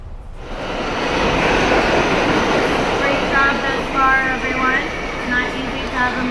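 Subway train running through tunnels, a loud continuous rumble and roar with faint metallic squeals rising above it, while people talk over the din.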